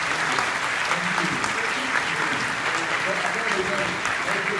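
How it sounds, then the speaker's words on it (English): Conference audience at an economic summit in a Tokyo hotel ballroom gives sustained, dense applause, a steady roar of clapping holding level throughout with faint voices beneath. "please give a big round of applause"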